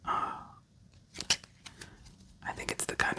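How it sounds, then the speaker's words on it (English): A deck of playing cards is shuffled for a FreeCell solitaire game, giving close, quiet bursts of crisp riffling and snapping card clicks separated by brief pauses, recorded intimately. "Let's shuffle up for game number 3."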